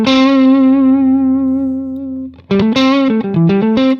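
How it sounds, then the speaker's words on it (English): Electric guitar played through an iOS amp simulator with heavy distortion: a long sustained distorted note fades, then a quick run of punchy, saturated notes follows, loud and close. "So let's say we've got like a load of distortion."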